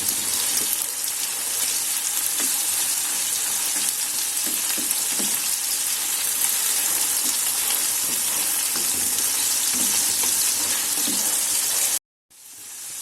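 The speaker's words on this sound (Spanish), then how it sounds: "añadimos el resto de la verdura junto con la carne de pimiento choricero y le vamos a ir dando unas vueltas para que se vaya cocinando todo un poquito." Vegetables and choricero pepper pulp being stir-fried for paella, with a loud, continuous close sizzle and occasional stirring scrapes. The frying cuts out abruptly near the end and then returns.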